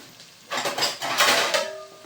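A metal lid goes onto a pot of cooking guar beans: a close clatter and scrape of metal on metal, ending in a short ringing tone as it settles, with no talk.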